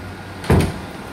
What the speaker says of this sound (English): So let's close this here pocket door.